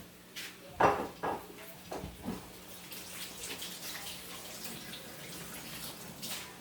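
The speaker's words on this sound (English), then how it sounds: "As I wash my hands again." Hands are washed under a running kitchen tap, a soft steady stream of water broken by a few louder splashes early on, close and moderately quiet with no talking.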